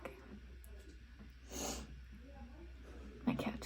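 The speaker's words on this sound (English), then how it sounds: "My cat just sneezed." A short, sharp sneeze from a cat bursts out near the end, close by, after a quiet stretch with faint background murmur.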